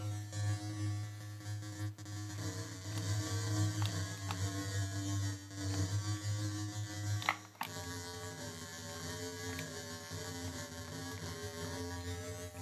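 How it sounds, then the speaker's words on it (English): A Roland MC-303 groovebox plays a wobble-effect synth patch from its soundbank as a steady, humming drone with slow pulsing modulation, fairly quiet and unaccompanied by voices. "Quite an interesting wobble effect."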